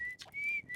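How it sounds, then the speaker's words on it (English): Thin, high whistling in short sustained notes, three bursts separated by brief breaks, faint and without speech, in the video game Outer Wilds. "I hear whistling."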